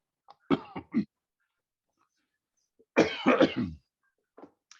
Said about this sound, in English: I'm going to have a good cough if you'll forgive me.